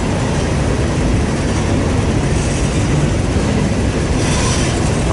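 Freight train with a CN gondola among its cars rolling past on the Fort Wayne Line, a steady broadband rumble and rail roar filling the whole stretch without pause.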